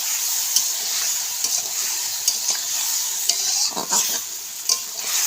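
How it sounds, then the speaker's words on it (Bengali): Spices rinsed from a bowl with a little water are stirred in a hot pan for a ridge gourd vegetarian dish, a steady loud sizzle with scraping spatula strokes recurring throughout, no voices. "কিছুক্ষণ নাড়াচাড়া করে নেব।"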